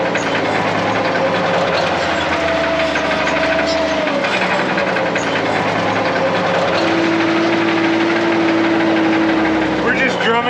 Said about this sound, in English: We're just drumming to the beat of a broken vehicle.